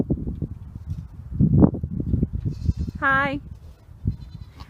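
Newborn Nigerian dwarf goat kids outdoors on their first day outside, with one clear, wavering high bleat midway and a fainter bleat just before it, over close rustling and handling noise while a person talks nearby.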